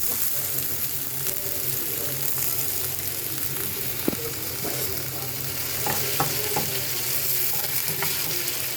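Potato pieces and garlic fry in a pan with a steady, even sizzle, broken by a few light utensil clinks and stirring scrapes near the middle and end.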